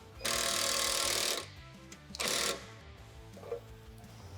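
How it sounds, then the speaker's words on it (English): A power tool fitted with a 13mm socket drives an M8 bolt into a rivet nut in a 2024 Toyota Tacoma bed during stiffener installation, giving two loud buzzing bursts, the first longer, then a short quieter blip. "With a 13mm socket on the end, we'll go ahead and just tighten that M8 bolt."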